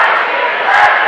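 Crowd cheering at a high school boys basketball game between Niles North Vikings and Glenbrook South Titans, a loud sustained roar of voices in a gym late in the game, with a brief sharper swell near the end.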